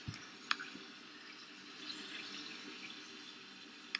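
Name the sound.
shower running in Roblox Bloxburg video game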